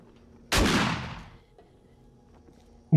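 A single loud gunshot in the VR survival game 7 Days to Die, a sharp blast followed by a long decaying echo, with faint game ambience around it.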